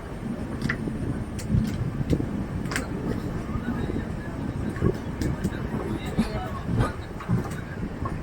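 Capital Express passenger train rolling along rails on a curve, a steady rumbling clatter with rhythmic wheel thumps and wind buffeting the microphone throughout.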